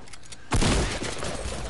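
Suppressed pistol fire in Fortnite, a sharp loud burst of gunfire breaking in after a quiet moment, then settling into a dense, rumbling noisy tail.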